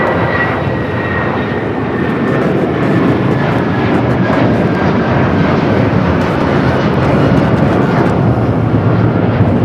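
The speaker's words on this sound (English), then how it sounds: "This is United Airlines 1069 taking off to Chicago on the 757-300." Loud, sustained jet roar of a United Airlines Boeing 757-300 taking off from Los Angeles International Airport, a dense rumbling wash with no pauses and no voices.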